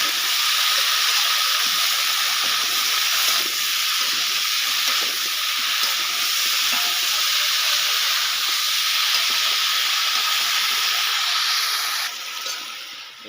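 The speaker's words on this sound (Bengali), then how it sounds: "সবজিকে ভাজা ভাজা করে নেওয়া লাগবে" Cauliflower and vegetables fry in a pan with a continuous, dense hissing sizzle that holds steady and close, then eases off in the last moments.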